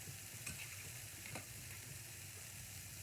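Broccoli cooking in a pan gives a steady, gentle sizzle and frying hiss throughout, close and even, with a couple of faint soft clicks and no voices.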